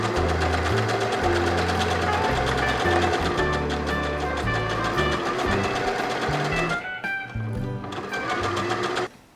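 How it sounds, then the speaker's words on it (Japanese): A sewing machine stitches a flap onto a gauze jacket with a seam of about 4 mm, running a fast, steady, close mechanical whir with a short pause before a final burst and stop. "ここを4ミリほどで縫い付ける。"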